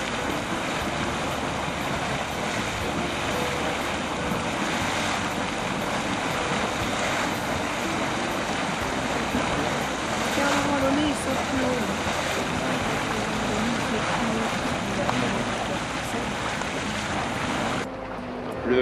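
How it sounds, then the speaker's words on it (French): Churning, bubbling hot spring at Yellowstone, stirred by escaping carbon dioxide, gives a steady broadband rushing and gurgling like surf, loud and continuous throughout with wind buffeting the microphone. "Un autre chaudron tourbillonnant. Ces remous sont dus au rejet de gaz carbonique qui s'en échappe."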